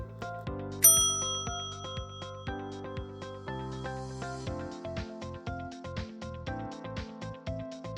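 A bell notification chime rings out clearly over a bright plucked musical backing, in a cooking channel's call to subscribe; the single ding stands out early and the music carries on in a steady rhythm after it.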